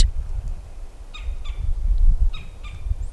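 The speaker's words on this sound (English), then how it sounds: "do you hear that bird? Spring is here." A bird calls in short, repeated chirps in the distance outdoors, over low rumbling wind and background noise.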